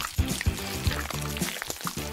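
Colorful goo poured onto ramen in a cartoon, a short wet pouring and glugging sound with soft splashy pulses, fairly close and clear.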